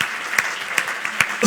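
Applause from a live audience at a healthcare executives' panel discussion: a brief burst of scattered clapping with sharp individual claps, swelling slightly toward the end.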